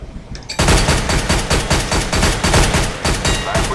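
Rapid automatic firearm bursts in Counter-Strike: Global Offensive, shooting through a piece of wood: loud, close, steady rattling volleys of shots that start abruptly and continue without pause.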